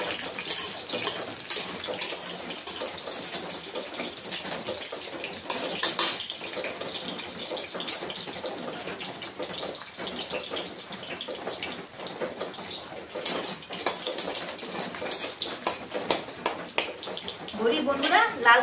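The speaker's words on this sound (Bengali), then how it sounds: "লাল করে ভেজে নিয়েছি, এখন নামিয়ে দিচ্ছি" Red amaranth leaves (lal shak) fry in a hot pan with a continuous close, crackling sizzle that flares in louder spurts now and then, running steadily throughout.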